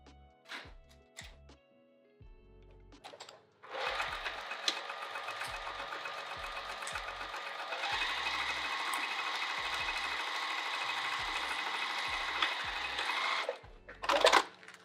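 Sewing machine stitching a seam across the top of a fabric cover, a steady mechanical whir running for about ten seconds after a few handling clicks, close and fairly quiet.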